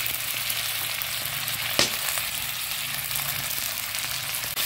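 Chopped tomatoes sizzle and fry in a hot wok over an open fire while local chicken curry is being cooked, a steady close hiss with one sharp spatter burst midway.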